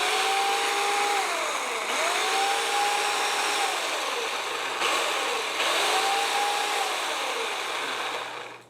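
An electric chainsaw runs steadily at a loud, close, high-pitched whine, with its motor pitch dipping and rising a few times as the trigger eases and squeezes, before cutting off at the end.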